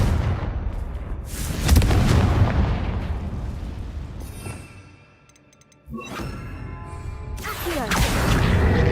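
Loud booming blasts from a Confringo fire spell in Hogwarts Legacy, several heavy explosions with crackling debris, a brief lull near the middle before more rumbling bursts follow.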